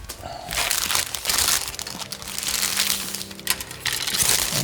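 Clear plastic wrapping around sprues from a German assault infantry model kit crinkles and crackles loudly up close as it is pulled away, a continuous rustle with small sharp snaps.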